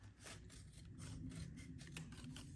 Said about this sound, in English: I'm just gonna use scissors. And I'm just gonna cut this out.